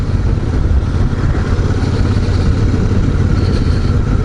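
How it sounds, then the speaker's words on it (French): Royal Enfield Super Meteor 650 twin-cylinder motorcycle engine running steadily at close range, a loud continuous low rumble with a slight clatter, riding along without interruption. "ce moteur 650 à 47 chevaux"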